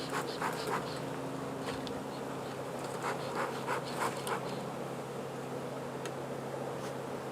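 Honey bees buzz at a hive during a beekeeping class in Swanzey, New Hampshire, making a continuous dense hum with individual bees flying close past now and then.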